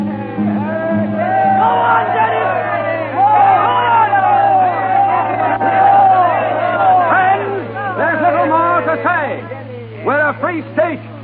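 A large crowd shouts and cheers at an outdoor political meeting in a town square in Ireland, staged for a 1937 radio drama. The roar is loud and sustained, with overlapping voices and whoops, and bursts of individual shouts near the end.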